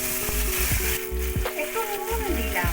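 Soaked mung dal tipped into hot oil tempered with whole cumin and a dried chilli, giving a loud crackling sizzle with a few sharp spattering pops and brief clatters of a spoon against the pan.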